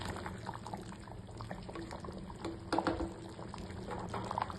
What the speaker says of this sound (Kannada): ಚೆನ್ನಾಗಿ ಬಾಯ್ಲ್ ಆಗ್ತಿದೆ.